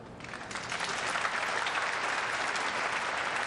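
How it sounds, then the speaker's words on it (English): Crowd in Taiwan applauds a shot at a 2004 world 9-ball pool championship match, a steady, moderately distant wash of clapping from many spectators that holds evenly throughout. "Well, nice to hear that applause."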